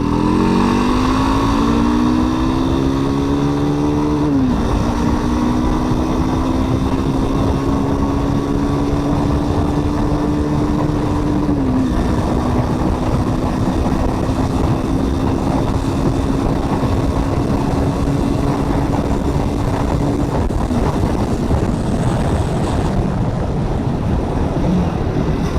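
A Jawa Classic BS6 motorcycle engine pulls steadily under throttle while riding, a loud, continuous drone that steps through gear changes and is mixed with heavy wind rush.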